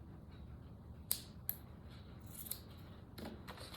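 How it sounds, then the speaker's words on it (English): Scissors snip through a paper hat tassel in a few quiet, sharp clicks spaced irregularly, close by with faint background hiss. "I am just going to cut that to, let's say, about halfway down"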